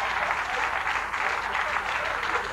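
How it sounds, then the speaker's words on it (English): Steady, full applause from a stand-up comedy audience at a Dennis Miller show, dense and continuous without a break, with no voice heard over it. "Thank you for the heretical applause."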